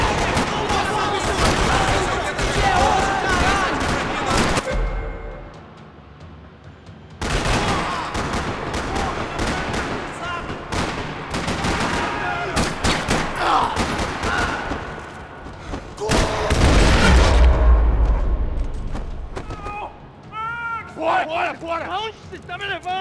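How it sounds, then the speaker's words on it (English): Bursts of gunfire crackle through a parking lot in Max Payne 3, loud rapid volleys with short pauses and a heavy low thump near the end, mixed with game voices and effects throughout. "Another parking lot rattling with gunfire."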